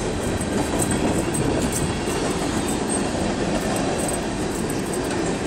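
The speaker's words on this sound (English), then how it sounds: "Illinois Central 1015 freight train going through Effingham." Illinois Central freight train rolling through Effingham, Illinois, a steady loud rumble of heavy wagons with faint wheel clatter and squeal, continuous and close throughout.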